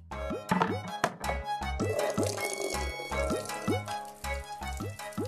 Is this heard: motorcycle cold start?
no